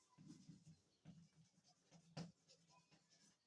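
Pen or marker strokes while working out a translation vector for a mathematics transformation problem, several short scratchy bursts with pauses between, close and fairly quiet, no talking.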